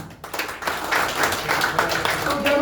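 Clapping from an audience at an Enagic business presentation, a brief burst of fairly dense applause lasting a few seconds with no one speaking over it.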